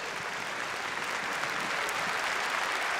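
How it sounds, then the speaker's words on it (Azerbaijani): Loud, sustained applause from a concert audience at an International Women's Day show in Azerbaijan, a dense steady roar of clapping that fills the full three seconds without letup. "bir daha gürültülü alqışlarla gecəmizi açıq elan edək"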